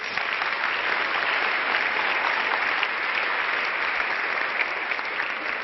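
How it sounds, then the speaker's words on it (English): Big applause for the finalists at the UNCTAD WBA ceremony in 2014, a sustained, even wash of clapping from a large audience, loud and continuous with no voices over it. "A big applause for the finalists"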